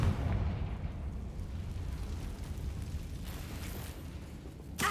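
A fiery explosion from the Confringo spell in Hogwarts Legacy, a low rumbling boom that sustains and slowly decays, ending in a sharp burst.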